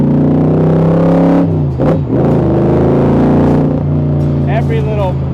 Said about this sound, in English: Every little burst of gas propels this car like crazy.